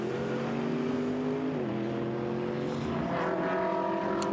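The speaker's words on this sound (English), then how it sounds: "He's Mercedes AMG. Looks good, handles well, sounds fantastic." Mercedes AMG GT race car engine running on track during a GT practice session in Hungary, a loud sustained roar whose pitch dips briefly mid-pass, then climbs steadily through the gears with no voices.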